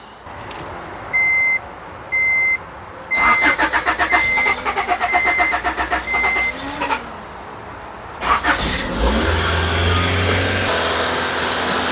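A 1991 Honda Civic wagon with a freshly repaired radiator cranks for a few seconds, then catches and settles into a steady, close idle. Several short reversing-style beeps sound before it.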